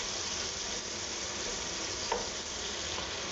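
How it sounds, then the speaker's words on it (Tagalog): Meat for pansit palabok sautés in a pan, making a steady, soft, even sizzle throughout with one brief scrape of stirring, close but fairly quiet and with no talking. "Gigisa lang natin siya maigi."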